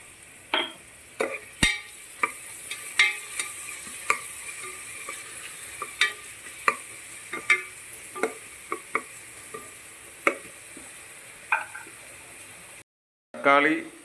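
Ingredients sautéed with a pinch of powdered salt in a pan for a bachelor-style pulao: a soft steady sizzle broken by frequent sharp spoon scrapes and clinks against the pan, with a brief quiet gap near the end.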